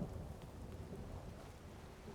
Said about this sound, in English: She's having to take shelter from the rain